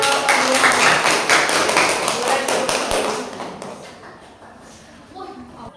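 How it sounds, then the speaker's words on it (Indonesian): Classroom applause from students in an Islamic religious education lesson, a burst of rhythmic clapping that fades out over a few seconds, followed by quiet room tone. "boleh beri tepuk tangan untuk"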